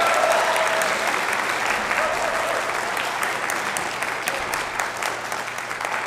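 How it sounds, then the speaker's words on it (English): Sustained, dense applause from a concert hall audience for a school concert orchestra at a spring band and orchestra concert, loud and steady throughout, easing slightly toward the end. "How about another big round of applause for our concert orchestra?"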